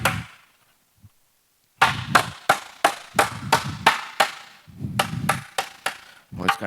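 A hammer strikes the upper curved edge of a metal panel in a quick series of about a dozen sharp, ringing blows, close and loud, after a brief silent pause.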